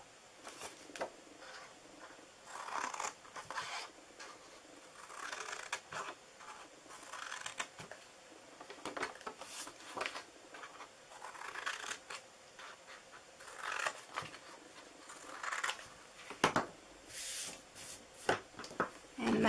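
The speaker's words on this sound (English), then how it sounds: "Now I'm going to cut down my bottom flaps." Scissors cutting the paper flaps of a Christmas snowflake treat box, producing repeated crisp snipping and rustling of cardstock at close range, irregular and continuous, with speech mixed in at times.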